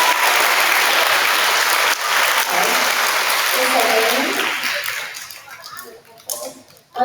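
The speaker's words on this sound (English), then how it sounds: "Let's give these awesome jumpers another round of applause." Applause from a school audience for kindergarten jumpers at an awards program, steady dense clapping that thins and fades toward the end, with a voice briefly audible.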